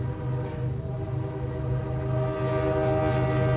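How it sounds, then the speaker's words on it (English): A train rumbles past nearby, a steady loud drone with low humming tones and a brief high horn-like note near the end, continuous throughout. "the train is coming"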